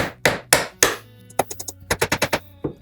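Hand-hammering nails into scrap wood, three heavy spaced blows followed by a quick run of lighter, rapid taps, sharp and close, no talking.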